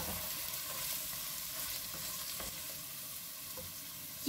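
Pepper paste and tomato paste frying in hot oil, a steady, dense sizzle that holds evenly throughout, close and alone with no voices.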